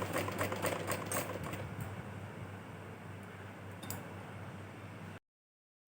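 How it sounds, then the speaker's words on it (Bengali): A sewing machine stitches layered blouse pieces, running steadily with a fast, even mechanical ticking for about five seconds before cutting off. "একটার উপর আর একটা চাপিয়ে দিয়ে হালকা হাতে সেলাইটা করে নেব"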